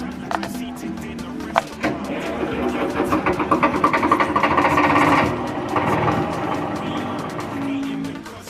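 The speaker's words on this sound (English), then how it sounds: "First we have a Porsche diesel tractor. Take a listen." A Porsche diesel tractor engine starts up in a museum hall, settling into a loud, steady, rhythmic chugging with fast mechanical clatter throughout.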